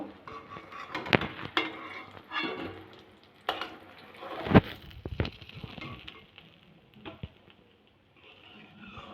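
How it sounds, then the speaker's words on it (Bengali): Pointed gourd sizzles and crackles in oil in a pan, broken by sharp clinks and scrapes of a utensil stirring, loud at moments then settling to a soft fry. "পটলগুলো আমি একইভাবে ভেজে নেব"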